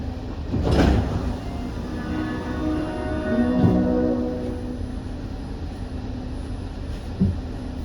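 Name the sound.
platform screen doors opening and closing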